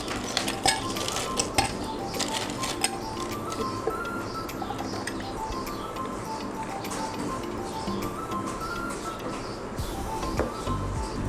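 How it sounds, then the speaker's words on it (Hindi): Ice cubes dropped into a serving glass for raw mango sharbat: several sharp clinks and clatters early on, then lighter rattling, with birds cooing softly in the background. "अब हम जूस को डालेंगे सर्विंग ग्लास में। सबसे पहले इसमें डालेंगे बर्फ़।"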